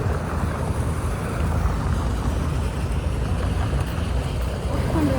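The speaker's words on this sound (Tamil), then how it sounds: "இந்த வாட்டர் சவுண்டு அது மாதிரி ப்ளசண்ட்டாக பீஸ்ஃபுல்லாக இருக்குது" Steady water noise on a lakeside walk, a constant rushing wash with wind buffeting the microphone throughout, fairly loud and unbroken.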